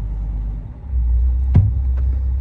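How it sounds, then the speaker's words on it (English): A Chrysler car with Fluid Drive transmission idles in reverse, a steady low engine rumble that steps up slightly partway through, with a brief sharp click or knock near the end. "So now we're sitting here idling in reverse, and the car's not stalling out."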